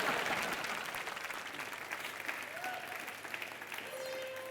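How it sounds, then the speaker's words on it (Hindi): A TV studio audience claps steadily in a broad, continuous wash of applause that carries on for several seconds without pause. "तुम ताली दो मुझे, आसान कर दो।"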